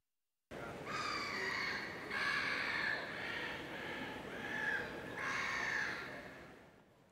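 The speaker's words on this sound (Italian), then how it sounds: "Il silenzio è rotto solo dal verso di un gabbiano, dai rumori di un cantiere" A gull calling in a quiet Venice: harsh, raspy cries repeated in several drawn-out bursts, moderately close and clear against a faint background.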